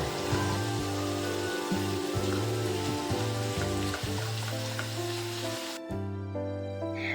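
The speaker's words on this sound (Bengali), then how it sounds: "এরপরে এখানে আমি পেঁয়াজ কুচি অ্যাড করে দেব" Chopped onion frying in hot oil with spices for a chicken kosha curry, a steady loud sizzle with low rhythmic bubbling throughout that briefly cuts out near the end before resuming.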